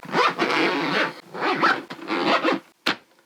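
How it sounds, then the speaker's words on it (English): The zipper of an Away carry-on suitcase is zipped shut in three long, loud rasping strokes, close up, then one quick final tug. No one speaks. "Now we just have to see that she actually zips up."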